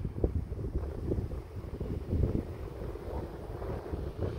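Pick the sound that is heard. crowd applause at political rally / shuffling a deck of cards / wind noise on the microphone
wind noise on the microphone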